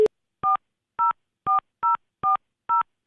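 Mobile phone number being dialed, with six evenly spaced, clear touch-tone beeps of steady pitch after a brief short tone, close and clean against silence.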